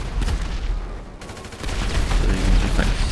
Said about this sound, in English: Bam, and airstrike goes off.